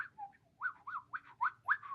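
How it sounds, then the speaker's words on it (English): Bird sound effect of whistled chirps, five or six short rising and falling notes in a quick run, faint and alone. "putting in a bird sound"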